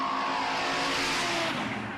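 Green Ford Cortina and a Ute roll racing side by side at an Adelaide roll racing event, engines revving hard in a loud, sustained roar with some tyre noise, close and continuous.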